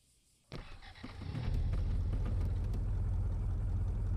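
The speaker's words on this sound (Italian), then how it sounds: "E chi è quella macchina là?" A car engine starts up close by after a quiet moment, then settles into a steady, loud running rumble that continues unbroken.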